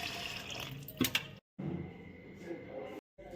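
Green chillies are rinsed under running water in a home kitchen, a splashing, gurgling flow that cuts off twice into brief silence before resuming, close and moderately loud.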